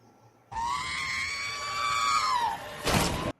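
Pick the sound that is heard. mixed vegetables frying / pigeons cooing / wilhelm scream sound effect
wilhelm scream sound effect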